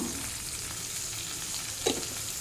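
Chopped vegetables with salt are stirred and sautéing in a pan, giving a faint, steady sizzle with a brief scrape of the spoon near the end, and no talking.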